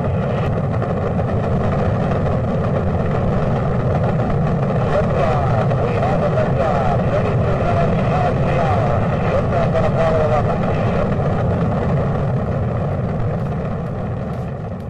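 Rocket engines thunder at launch, a loud steady roar that holds without break and eases slightly at the very end.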